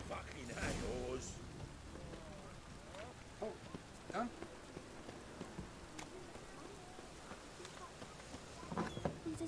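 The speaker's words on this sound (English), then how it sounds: "Rain, I like rain." Steady rain falls in The Witcher 3 video game, a quiet soft patter on surfaces running throughout, with someone speaking briefly over it.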